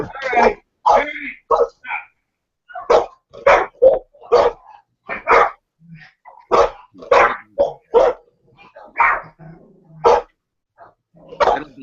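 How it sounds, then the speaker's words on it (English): Several pet dogs bark loudly and excitedly indoors in repeated sharp bursts, some with whining, moaning tones, recurring in irregular clusters close to the microphone with short pauses between them. "My dogs are going nuts."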